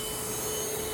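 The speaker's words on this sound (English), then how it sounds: "So this is the suction on my carpet" Steady, loud whine of an Airbot Supersonics cordless vacuum cleaner running on a low suction mode over carpet, an even droning hum with a sharp tonal note, close and alone without talk.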